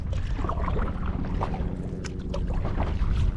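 Wind buffeting the microphone on a paddle board drifting over open ocean while bottom fishing off Hawaii, a loud, steady low rumble with light water slaps and small knocks against the board, and no talking.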